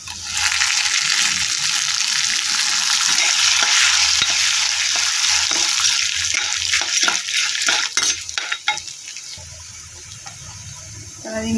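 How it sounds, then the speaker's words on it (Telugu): Idly upma mixture with turmeric and salt being stirred in a hot pan, with a loud, constant sizzle that gives way to clattering spoon scrapes against the pan toward the end. "అది మిశ్రమాన్ని వేసుకొని బాగా కలుపుకోవాలి."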